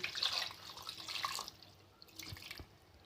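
Water is poured into ground masala with crushed dried red chillies while making mutton sukka, a splashing pour that is strongest at first, then trails off into a few scattered drips.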